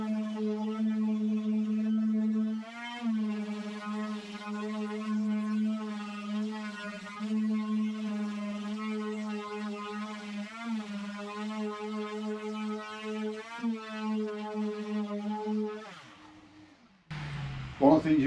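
Palm sander with dust extraction attached, sanding the edges of a wooden toybox, droning steadily with a strong low hum and slight pitch shifts, then winding down near the end before a short clatter.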